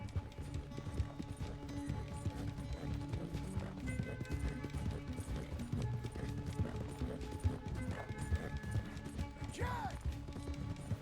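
Horse hooves gallop at a steady, rhythmic clip-clop in the video game Red Dead Redemption 2, close and continuous under game music and ambience.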